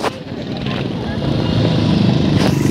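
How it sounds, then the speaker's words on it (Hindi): A group of motorcycles rides past on a mountain road near Manali. The engines roar loud and close, building over a few seconds, while someone talks over them. "देखो देखो बाइक वाले, देखो कितने सारे ग्रुप गया है, और देखो देखो कितने सारे बाइकर है"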